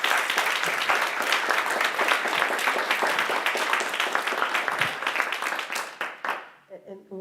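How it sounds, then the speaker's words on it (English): A conference audience gives a sustained round of applause for a civil rights panel, dense steady clapping that fades out near the end. "give another round of applause to our panelists"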